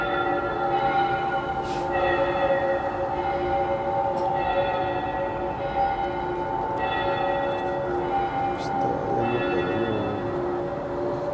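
A large bell tolls steadily in The Walking Dead: Saints & Sinners, its loud ringing strikes repeating about every two seconds over a sustained humming resonance, with no voices.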